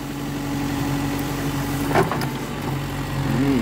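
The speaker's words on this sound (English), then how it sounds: "So we hire a tractor if we dig down." A tractor engine idles close by on hillside land being dug and leveled for a house site, a steady low rumble with a brief louder bump midway.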